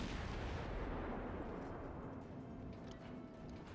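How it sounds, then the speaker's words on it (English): Naval shell fire from the destroyer Gnevny aimed at the Kolberg in World of Warships, a heavy booming blast with a long rumbling roll that fades slowly under a continuous dense roar, no voices. "I'll shell the Kolberg while I'm moving over there"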